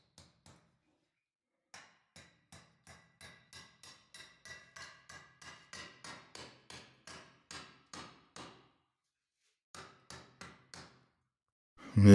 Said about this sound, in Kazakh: Мінекей барлық жеріне директоратты шегемен қағып бекітіп алдық